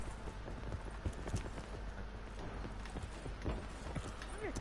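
Teammates' footsteps in Call of Duty Blackout, loud thudding steps in an irregular run of heavy impacts, close and prominent throughout with no talking.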